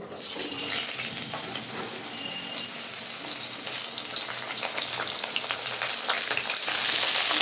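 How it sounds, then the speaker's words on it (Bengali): Pieces of pointed gourd frying in hot oil, a steady close sizzle with crackling pops that runs unbroken throughout, growing slightly brighter toward the end. "তেল গরম হয়ে গেছে, পটলগুলো আমি ভেজে নিচ্ছি।"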